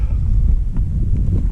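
Strong night wind buffets the microphone in a steady low roar, loud and close, with no talk heard.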